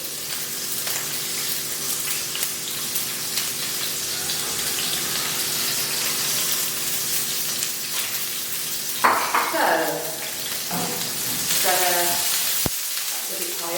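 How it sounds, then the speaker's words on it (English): Onions and whole garlic cloves sauté in a pan with a steady, fairly loud sizzle, with a few clattering stirs and a spoon knock toward the end. "So I'm going to saute these a bit."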